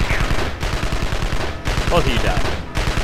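Rapid gunfire from the Evil Genius video game rattles steadily in dense bursts throughout, with a voice speaking over the shooting.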